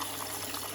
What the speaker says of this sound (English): it's getting water